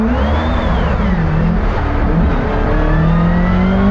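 A four-rotor race car launches hard, its engine spiking toward 10,000 RPM, with a loud, continuous rising rotary roar and harmonic whine sweeping upward close up, dense and sustained throughout with no talk.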